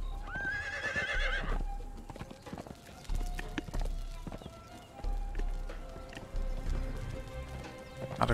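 A horse whinnies loudly near the start in Conan Exiles, followed by steady clip-clopping hooves and scattered clicks and clatter, with no talking.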